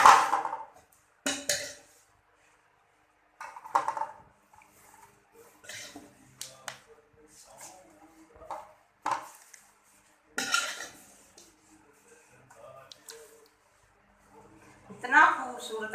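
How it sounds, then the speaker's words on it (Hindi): Egg and potato pulao is served into a dish, with sporadic clinks and scrapes of a spoon against pots and plates spaced by brief pauses, close by and moderately loud, while someone speaks between the sounds. "इसमें डिश में निकालूंगी मैं।"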